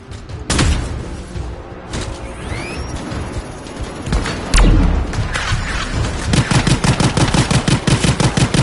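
Gunfire in the video game Anthem: sharp single shots and crashing impacts give way to a loud, rapid burst of automatic fire toward the end, with mechanical clanks between.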